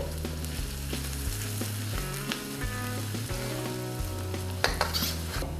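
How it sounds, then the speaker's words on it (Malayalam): Ginger and garlic sauté in hot oil in a pan for soya Manchurian, a loud continuous sizzle with rhythmic stirring scrapes throughout. "ജിഞ്ചറും ഗാർലിക്കും നന്നായി സോത്ത് ചെയ്ത് ഒരു ഗോൾഡൻ ബ്രൗൺ ആയി കഴിയുമ്പോൾ"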